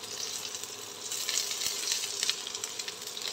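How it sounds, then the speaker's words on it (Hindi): Onions and carrots frying in a pan, a steady close crackling sizzle with bright spitting pops throughout, fairly quiet and with no talking. "अब हम डाल देंगे इसमें प्याज और इसको हम फ्राई कर लेंगे"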